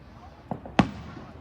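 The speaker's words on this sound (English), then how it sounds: "do you think the fireworks are even done?" Two distant Fourth of July fireworks bursts, a faint pop followed about a quarter second later by a sharper, louder bang, heard outdoors over a quiet background.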